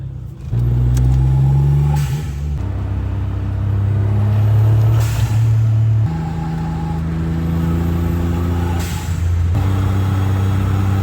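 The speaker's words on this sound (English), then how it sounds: "Gotta love traffic at 6 in the morning." Early-morning road traffic with trucks passing: a continuous engine drone with rising and falling revs, punctuated by a few short hissing bursts of truck air brakes.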